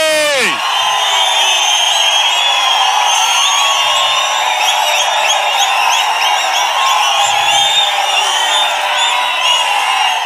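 Large rally crowd applauding and cheering without pause, a dense roar that stays loud and constant, with a few whoops and yells rising out of it.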